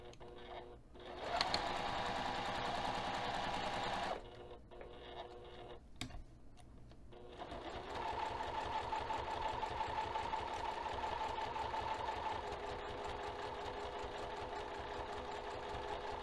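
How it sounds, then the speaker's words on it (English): A sewing machine topstitches the finished edge of a bag at a 3 mm stitch length, humming in two long steady runs of rapid needle strokes with a brief pause and handling noise between, close and without speech. "we're going to take this over to the sewing machine and tap stitch the finished edge"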